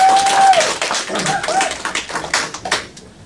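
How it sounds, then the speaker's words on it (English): An audience claps at a local community event, a loud, uneven burst of hand claps with some voices mixed in, tapering off near the end. "y'all want to give her applause?"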